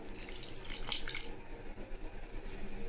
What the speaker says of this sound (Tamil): கொஞ்சம் தண்ணி ஊற்றி ஊற வைக்கலாம்.